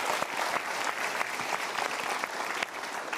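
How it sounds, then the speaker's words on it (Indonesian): A studio audience at a motivational talk show claps loudly and steadily, a thick continuous patter of many hands with a faint murmur of crowd underneath. "Berikan tepuk tangan dulu"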